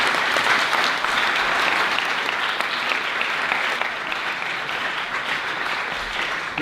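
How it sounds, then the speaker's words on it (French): Sustained applause from a conference audience greets a speaker, a dense, even wash of clapping that stays loud throughout and eases off only slightly toward the end. "Un tonnerre d'applaudissements pour lui."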